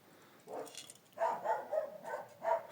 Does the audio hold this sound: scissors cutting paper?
no